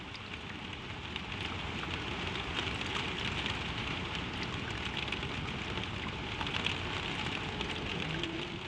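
Gentle spring rain falling steadily on surfaces, a soft continuous patter with scattered drop ticks, even and unbroken throughout, with no voices.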